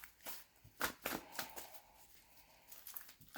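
Playing cards shuffled and drawn during a tarot-style reading, with quick riffling, snapping bursts and soft slides of card stock, fairly close but faint.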